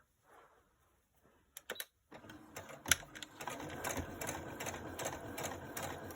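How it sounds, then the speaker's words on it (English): Sewing machine stitching a junk journal cover, starting after a few quiet seconds with a couple of short bursts, then running steadily with a busy mechanical whir and rattle, fairly close. "Gosh, why am I sewing?"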